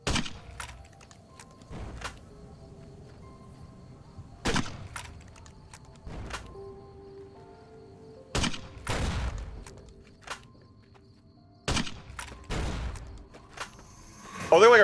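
A long-range gun in the video game Fallout New Vegas fires repeatedly, about a dozen sharp, spaced shots with brief echoing tails over a quiet background.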